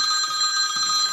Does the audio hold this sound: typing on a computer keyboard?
no